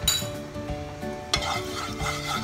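Turmeric powder sautéing in a hot pan, a close sizzle with stirring scrapes and light utensil clinks against the pan, continuous and without speech.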